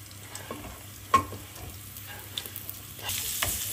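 Onions fry in a pan with a steady sizzle, while utensils stir and scrape in occasional knocks, and the hiss grows louder toward the end.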